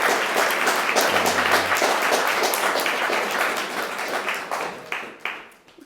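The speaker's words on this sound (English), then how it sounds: "I think that deserves a round of applause" Guests at a wedding ceremony break into full, loud applause that holds steady for several seconds, then thins into scattered claps and fades out.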